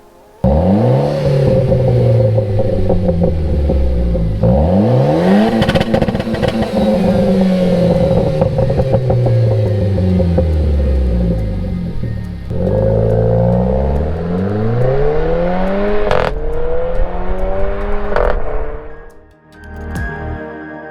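Renault Clio RS with the exhaust back box deleted, revved repeatedly up and down, loud and close with a raspy rising and falling note, brief pauses between blips before settling, no talking.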